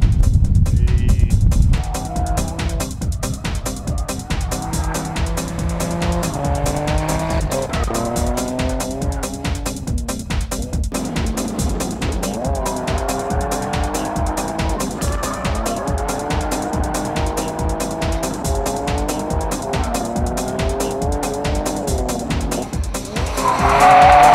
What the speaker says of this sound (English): Having fun out there, a little drifting here and there.